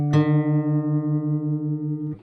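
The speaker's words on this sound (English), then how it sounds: "let's try and tune this string and listen out for that beating." Two guitar strings sounding together while being tuned by ear, their sustained tone pulsing with a regular wavering beat for about two seconds before cutting off.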